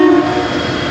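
A train passes close by, loud and sustained, with a droning tonal blare like a horn over the rumble of rolling wagons. No one speaks.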